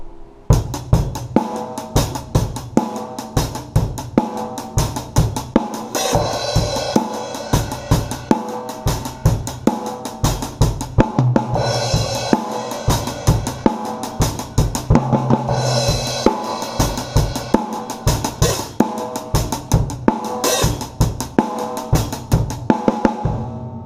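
A loud, driving drum kit groove of steady eighth notes in 7/8 time, heavy kick and snare hits repeating with fills, alone without voices.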